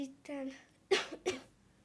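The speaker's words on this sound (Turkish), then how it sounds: "Bu kokuya bak bir öksürükten tutamıyorum kendimi" A short spoken sound is followed by two sharp, close coughs in quick succession.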